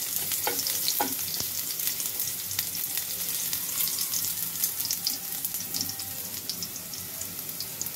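Garlic sizzles and fries in a hot pan while being stirred. A steady, bright crackle plays throughout, with a few scraping stirs near the start and no talk.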